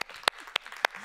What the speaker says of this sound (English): Whoa, applause